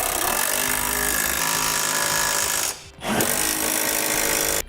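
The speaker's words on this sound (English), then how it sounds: "now we use a 17mm socket and tighten our bolts up." A power tool whirs loud and steady while a 17mm socket drives trailer hitch bolts tight on a 2007 Buick Terraza, stopping briefly for under half a second before running on again.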